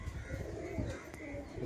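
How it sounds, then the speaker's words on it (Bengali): Pigeons coo softly in a low, rolling murmur, fairly quiet and continuous over a short stretch with faint background noise. "বাহ, সুন্দর পায়রা।"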